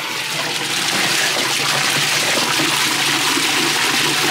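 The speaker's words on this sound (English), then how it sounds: "Put the cup over the outtake, and now I'm gonna plug it in." An FX5/FX6 canister filter's impeller pumps water into a cup held over the outtake, a loud, steady, close rushing gush that runs without a break and has no talking over it.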